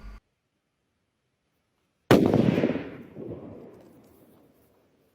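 A single sharp blast from a homemade explosive bursts out of near silence and rumbles away over a few seconds, with a short noise at the very start and end.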